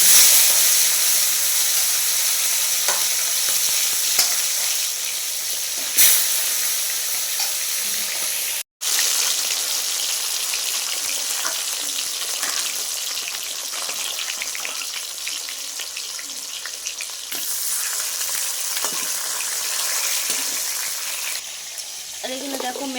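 Fish frying in a hot pan for a small-fish dish with spring onion greens, giving a loud, continuous sizzling hiss that carries on for the whole stretch, cut by one brief dropout partway through.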